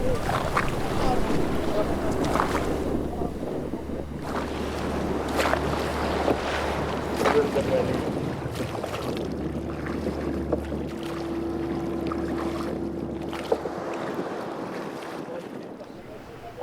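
Artisanal mullet-fishing canoes are pushed off into the sea at Bombinhas, Santa Catarina, under a constant roar of surf and wind buffeting the microphone. A low, droning hum runs beneath for most of the stretch, with scattered knocks and splashes.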